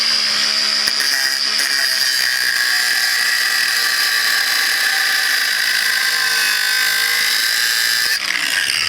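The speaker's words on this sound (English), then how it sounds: "So you can come in here with a grinder like this." An angle grinder cuts leftover steel from a tube notch, giving a loud, close, continuous high-pitched whine with steady tone and a slight shift near the end, without any talking.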